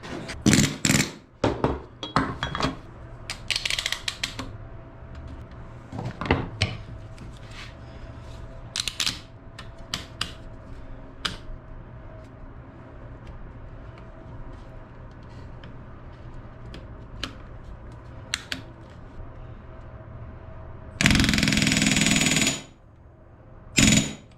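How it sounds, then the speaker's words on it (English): A rivet gun hammers Bearhawk aircraft nose ribs in a workshop, short rapid bursts scattered across quiet stretches, with one long, loud burst near the end. "So now it's time to rivet all of my nose ribs."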